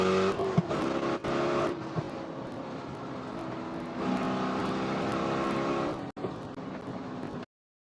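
Spec Corvette race cars at Sonoma Raceway at the green flag, a continuous loud engine roar with shifting revs and a few sharp breaks, heard from close by with no talk.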